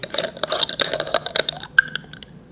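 A KIVA UMF 24+ glass jar is opened up close, with a quick run of light glassy clinks, taps and a scrape, ending in one sharper click and a few softer knocks.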